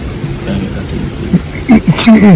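Steady rain pours with rumbling thunder in an outdoor Jamaican setting, loud and continuous, while voices talk toward the end.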